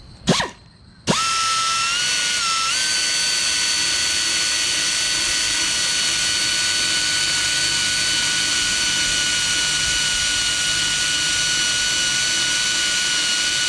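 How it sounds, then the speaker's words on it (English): A belt sander grinds down the kingpin of a roller skate, with a sharp contact at the start, then a loud, steady high whine and grinding hiss that runs on unbroken. "We're going to do the belt sander with this skate"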